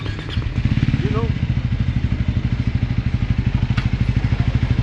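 A Triumph Speed 400 motorcycle fitted with a slip-on exhaust idles close by, a fast, even thumping pulse that holds steady throughout, with a person talking over it.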